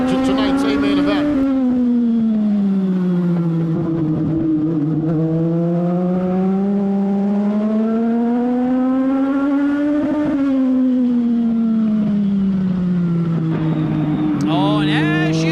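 Semi-pro race cars in a 15-lap B-main event on a racing-fuel-sponsored track: a loud, sustained engine drone rises and falls steadily as the cars accelerate and lift through the laps, with a few brief voices near the end.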